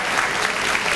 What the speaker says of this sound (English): Give Marie a round of applause for being what you do.